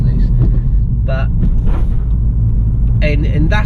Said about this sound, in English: I'm on there's a big bumpy road, and I'm doing sort of 50-60.